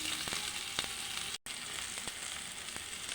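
Pointed gourd frying with green chillies and onion gives a close, steady sizzle with a few stirring clicks, briefly cut to silence midway before the hiss resumes.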